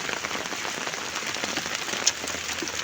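Rain falls steadily on a chili pepper farm at harvest time, a dense, even patter with one slightly sharper drop partway through and no voices.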